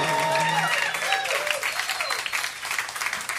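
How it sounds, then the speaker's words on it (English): Crowd applause and hand claps at a blues concert, loud at first and slowly fading over a few seconds, with some voices mixed in. "put your hands together, make a lot of noise with great hand claps"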